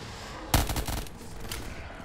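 Gunfire from a weapon in Call of Duty Black Ops 3 Zombies on a custom courtyard map: a sudden loud burst of rapid shots lasting about half a second, then a few more scattered shots trailing off under steady background game noise.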